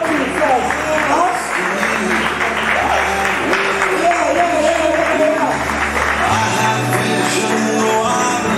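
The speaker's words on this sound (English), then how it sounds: "Keep clapping, keep clapping" Children clap together at a school closing ceremony, a steady, dense patter of many small hands that runs throughout beneath voices and a background tune.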